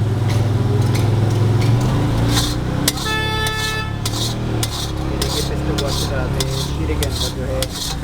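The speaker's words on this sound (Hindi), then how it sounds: "शीरे के अंदर जो है मिक्स किया जा रहा है ताकि ये गाढ़ापन इसके अंदर आ जाए।" Pistachio chikki is mixed into thick sugar syrup with steady scraping and clanking of a metal utensil against a pan, close and continuous, over busy street noise with a brief car horn.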